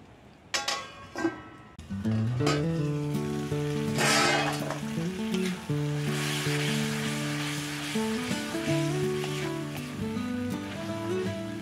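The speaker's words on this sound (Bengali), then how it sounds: "এবার ঢাকা দিয়ে ফুটিয়ে নেব, যতক্ষণ পর্যন্ত তেলটা না ছাড়ছে ততক্ষণ পর্যন্ত ফুটিয়ে নেব।" Masala cooks in oil in a pot over a wood-fired stove, a soft steady sizzle and bubbling beneath a tonal background, with stirring noises near the start.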